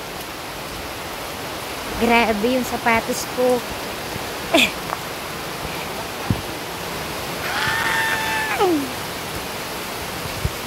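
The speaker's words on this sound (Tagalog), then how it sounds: "Oh, ang ulan." Steady hiss of rain falling throughout, with people talking over it in short bursts.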